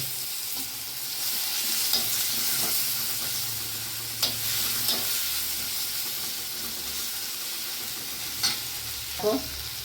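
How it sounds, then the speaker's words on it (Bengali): Onion paste and tomato frying in mustard oil, a steady close sizzle with occasional sharp spatters and scraping stirs throughout, no talking. "পেঁয়াজ আর টমেটোটা একসঙ্গে ভেজে নেব।"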